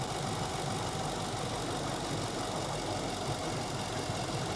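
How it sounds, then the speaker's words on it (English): A Nissan Armada engine running close by with a steady, even drone and a faint knocking texture that holds at the same level throughout, with no voices. "Revving the engine now."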